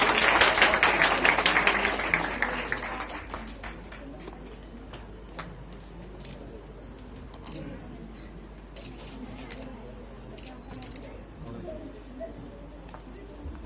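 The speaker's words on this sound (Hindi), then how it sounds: "जोरदार तालियां। जोरदार तालियां।" Applause from an audience at an award ceremony, a loud dense burst of clapping for the first couple of seconds that thins into scattered claps and murmuring.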